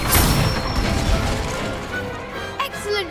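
The Incendio fire spell cast in Hogwarts Legacy, a loud burst and crackling rush of magical flame that fades over a few seconds, followed by faint clanks.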